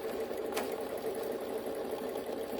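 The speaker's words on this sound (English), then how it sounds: "now it's going to do an outline and do a really pretty satin stitch" A quilting embroidery machine hums and chatters steadily while stitching a satin stitch outline on a wall flower quilt, a close, even mechanical whir with no talk.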